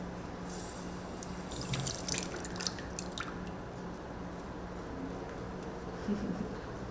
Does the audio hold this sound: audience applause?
no